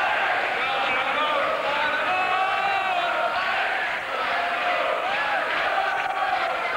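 A packed boxing arena crowd bellows and cheers for home fighter Colin Dunne against Phillip Holiday, a loud continuous roar of massed voices with scattered shouts rising above it and a brief dip near the middle.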